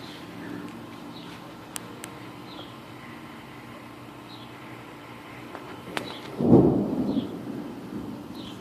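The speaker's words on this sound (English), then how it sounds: "you can definitely hear the thunder in the background" Low rumbling thunder from developing thunderstorms rolls in the distance, swelling into one louder, closer rumble near the end over steady outdoor ambience with faint bird calls.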